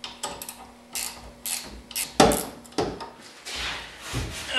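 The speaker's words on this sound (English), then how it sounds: "Start pulling the bottom nut off, it'll take that whole stud with it." A wrench or ratchet works a nut loose on a leaf spring stud during a rear leaf spring replacement: a run of sharp metallic clicks and short grinding bursts, loud and close, with brief pauses between.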